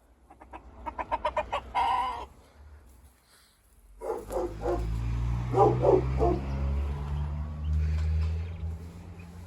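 Chickens cluck and squawk nearby, a quick burst of sharp calls followed by softer clucking over a low rumbling background.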